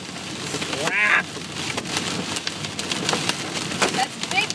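Golf-ball-size hail pounds a moving car during a storm, a dense, irregular barrage of sharp cracking impacts close on the body, with a brief voice heard early on.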